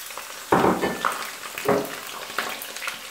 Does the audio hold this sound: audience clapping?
no